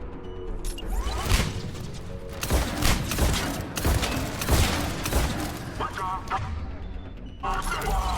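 Combat in the Mass Effect 3 video game with a grenade thrown among Cerberus troops: dense, continuous gunfire and explosive booms, crashes and mechanical clatter fill the whole stretch at close, loud level, with a voice talking over it.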